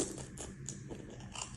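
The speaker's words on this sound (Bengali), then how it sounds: "কামড়, জোরে কামড়।" Someone biting down hard on something crunchy, a few close, sharp crunches with chewing in between, no talking.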